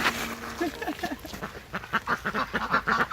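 Large ducks in Buyeo, South Korea, quack in a rapid series of nasal calls, loud and close, with some background murmur in between.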